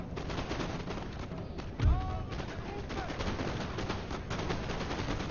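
Musket volleys in the Napoleon Total War video game crackle as dense, continuous battlefield gunfire, with one louder close shot and a steady roar of distant shooting throughout.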